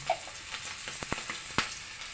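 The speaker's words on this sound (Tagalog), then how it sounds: "Para maluto yung tinapa." Smoked fish (tinapa) frying in a little oil in a pan, a faint steady sizzle broken by a few sharp clicks and scrapes of a utensil, close and quiet, no talking.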